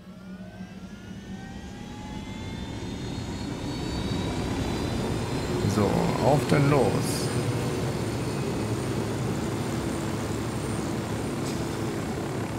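Helicopter in the video game Ghost Recon Wildlands, a steady engine and rotor drone that swells slightly mid-flight and holds on, with a brief spoken line near the start.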